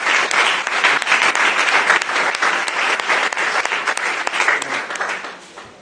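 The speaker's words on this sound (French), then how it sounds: "Donc, acclamons le Seigneur," Sustained applause from a conference audience at a school event, dense and steady clapping from a large crowd that holds for several seconds before tapering off at the end.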